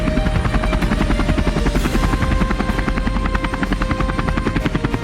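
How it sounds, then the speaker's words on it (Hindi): Several Iranian military helicopters fly together over the Kermanshah army ground during an airborne exercise, their rotor blades chopping in a loud, continuous rhythmic thud with a layered engine whine throughout. "ईरान ने पश्चिमी बॉर्डर के करमनशाह आर्मी ग्राउंड में इन हेलीकॉप्टर्स को इकट्ठा किया और एक साथ उड़ान भरकर"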